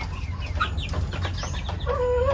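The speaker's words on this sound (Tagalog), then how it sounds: "Nakakatuwa ang mga chicken manok ni Kuya." A flock of chickens clucks and calls at a new home, with a busy, overlapping mix of short clucks and cackles close by, some wing-flapping, and a sustained higher call near the end.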